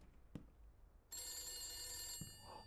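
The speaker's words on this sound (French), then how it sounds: "Répondre au téléphone." An old telephone rings in the horror video game The Beast Inside, a sustained bright metallic bell ring after a couple of soft knocks, quiet and fairly near, with no talk.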